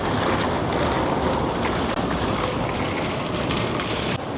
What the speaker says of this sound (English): This water you see pouring out of this building.